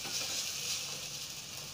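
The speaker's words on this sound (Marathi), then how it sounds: "हे असं तेलामध्ये भाजून घ्यायची थोडीशी, आणि झाकण ठेवण्याची काही गरजही नाही, असेच आपण परतून परतून भाजून घेऊ शकतो" Potato aloo cheela fries in oil in a pan with a steady, bright sizzle and a fine crackle. The sound holds evenly from start to finish, close by, with no voices.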